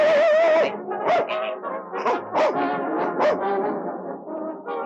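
A small dog in a 1960 Turkish film yaps and whimpers in a rapid string of short, high barks after an opening drawn-out whine, close and fairly loud.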